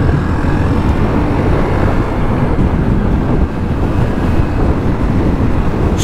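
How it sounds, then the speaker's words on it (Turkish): Strong wind roars continuously against the microphone on a road entering Çorlu, Turkey, a dense, loud buffeting rush that stays steady throughout, with no voices heard. "Çok dehşet bir rüzgar var ya."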